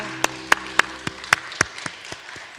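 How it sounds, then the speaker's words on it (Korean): Scattered handclaps from a worship congregation during a Friday night church service, a handful of sharp distinct claps at an uneven rhythm, moderately near and fading out toward the end. "우리 하나님 경배 박수 돌리겠습니다"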